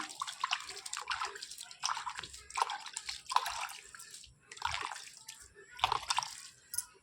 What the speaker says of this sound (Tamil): இங்கே பாருங்கள் கழுநீர் தண்ணி அந்த காய்கறி மேலே தெளித்து விட்றேன்